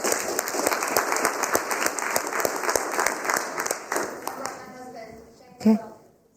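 Audience at a school district board of trustees meeting applauding a newly introduced administrator, steady crowded clapping that gradually thins and fades out, ending with a single louder thump or bump.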